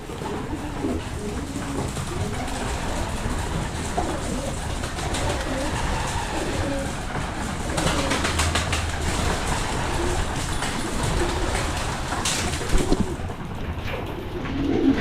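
Pigeons and doves cooing and fluttering in a loft during feeding on grain and pellets, a steady busy layer of soft coos and bird noise with faint rumble throughout.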